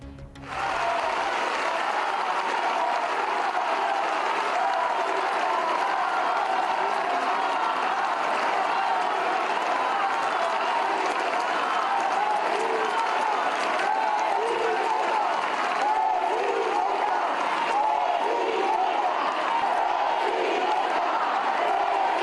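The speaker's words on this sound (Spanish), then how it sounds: "Gran aplauso para Santiago Nieto" A large crowd applauds and cheers continuously, a dense roar of clapping and shouts that starts abruptly and holds steady throughout.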